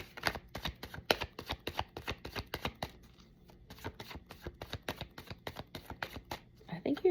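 Rapid rhythmic riffling and tapping of tarot cards being shuffled close up, in repeated bursts with a brief pause midway.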